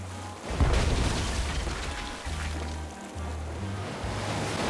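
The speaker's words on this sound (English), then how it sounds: "I think I shot the cannon." A ship's cannon fires in the Tales of Monkey Island video game: a single heavy boom near the start rolls into a washing, surf-like rumble, with low tonal game music pulsing beneath.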